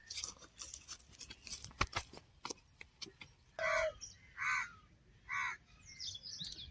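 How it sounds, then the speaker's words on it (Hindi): A crow gives three harsh, separate caws at moderate distance outdoors in the early morning, after a run of faint scattered clicks and taps. "उधर चिल्ला रहा है कौवा"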